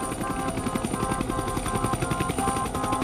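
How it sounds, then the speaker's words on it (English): A large medical evacuation helicopter thumps steadily, its rotor beating in a fast even rhythm over a droning engine whine, continuous and fairly close. "They have a helicopter, and it's big enough."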